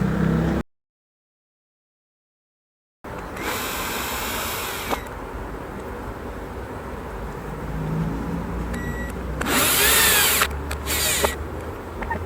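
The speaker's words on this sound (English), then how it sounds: "Now I'm gonna have to use my drill." A power drill whirs in a few steady bursts after a short silence, with a louder burst near the end, close by against faint outdoor background noise.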